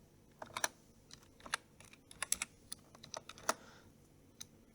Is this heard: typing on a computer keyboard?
yes